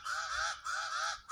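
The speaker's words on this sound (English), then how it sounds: "Sound of the crows" Crows caw in the late evening outdoors, three loud, nasal, drawn-out calls in quick succession, close by and alone.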